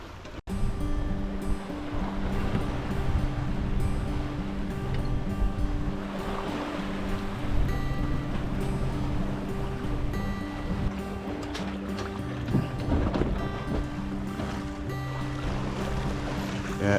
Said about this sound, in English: as we roll, the head sail's flogging around a little bit, but we're still moving